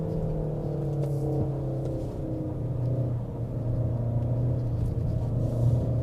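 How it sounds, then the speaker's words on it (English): A Peugeot 5008 turbo seven-seat SUV climbs a wet hill road after a downshift to second gear, its engine holding a steady, droning rev with a low rumble throughout and no talk. "I shift down the second gear and let's see whether it will shift up by itself."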